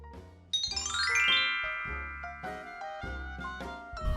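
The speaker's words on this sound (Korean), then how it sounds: "누가 초인종을 울렸는데?" A doorbell rings at a home in a tinkling, chime-like run of bright tones that ring on and overlap, followed by several more struck notes, alone and fairly loud.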